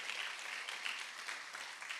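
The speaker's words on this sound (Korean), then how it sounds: "박수 한번 쳐주세요." Audience applause at a church worship conference, a steady dense wash of many hands clapping together, fairly soft and even throughout with no voices over it.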